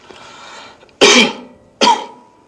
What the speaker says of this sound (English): Can we take a sample of your cough?